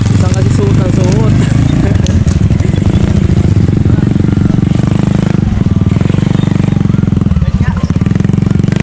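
Motorcycles labour over big rocks by a river, engines revving and chugging unevenly and loudly nearby, with people talking over the engine noise.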